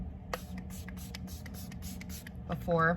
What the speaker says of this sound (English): and then I'll spray that on my powder too